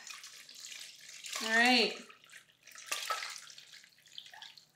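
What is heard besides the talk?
water running while rinsing a rabbit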